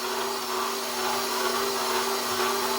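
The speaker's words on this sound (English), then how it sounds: "Now once the flour is incorporated and the dough is the right consistency, I'll let it mix for 5 minutes." An electric mixer kneading bread dough at home, a steady whirring motor drone with a constant hum, unbroken and fairly loud throughout.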